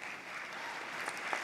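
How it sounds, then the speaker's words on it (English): An audience claps for Congresswoman Grace Meng: a dense, even patter of many hands, fairly quiet and somewhat distant, sustained for the full short stretch with no voices over it. "Let's give her another round of applause, please, for all of her work and her time."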